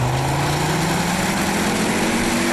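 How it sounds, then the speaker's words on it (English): A Ford Focus RS engine drones steadily and loudly at a constant pitch, sounding close by, with no voices over it. "One of my favourite parts of this car is the sound of the engine."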